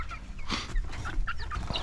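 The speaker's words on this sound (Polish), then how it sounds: "a to na pewno kogut" A Pekin bantam rooster gives short clucks and squawks nearby, a few brief calls in under two seconds, fairly faint.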